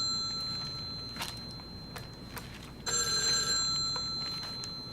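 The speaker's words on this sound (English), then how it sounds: "is someone gonna answer the phone?" A telephone rings in a 1973 police thriller film scene, with repeated electronic bell bursts over quiet room background and no speech.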